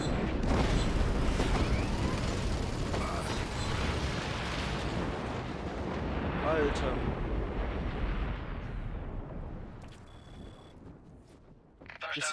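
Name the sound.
explosions in a video game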